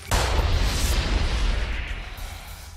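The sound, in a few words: explosion in the Seduce Me otome video game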